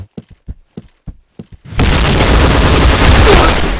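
A grenade explosion in the shooter game Point Blank: a run of sharp gunfire pops gives way to a loud, sustained blast roar that fills the rest of the moment.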